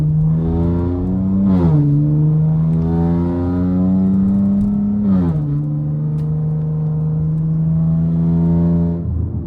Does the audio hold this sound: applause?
no